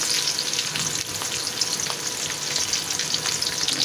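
Rice frying in a generous amount of oil in a home kitchen, a steady dense sizzle with soft stirring scrapes running close and loud throughout, no talk.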